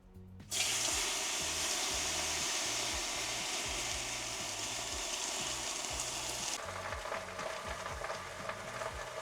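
Water poured onto the hot stones of a sauna tent heater hits with a sudden loud hiss and sizzle that continues for several seconds, close by, with faint low background music underneath.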